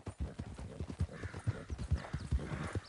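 Steady clip-clop of horse hooves from a riding horse in Red Dead Redemption 2, rhythmic and fairly close, with occasional soft snorts and no talk over it.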